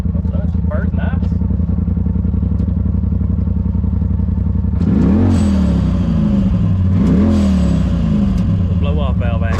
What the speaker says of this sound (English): Blow off valve action there.